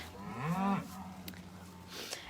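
A cow on a dairy farm with nursing calves lets out one long, loud moo, followed by quieter farmyard background and a couple of faint knocks.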